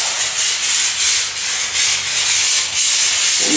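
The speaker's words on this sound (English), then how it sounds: "The first thing I'm going to do is just hit it with some degreaser and a rag" A dirty rag wipes degreaser over a car wheel in loud, close, rhythmic strokes, a steady hissing scrub repeating about twice a second without pause.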